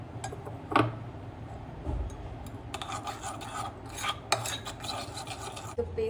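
A skincare paste with curd is stirred and scraped in a bowl, giving close, soft rasping and rubbing strokes in irregular bursts with light taps, no voice over it.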